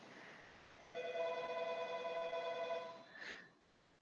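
A telephone rings once in a quiet room during a meditation session, a single faint electronic ring lasting about two seconds, followed by a brief higher chirp before the room goes still again.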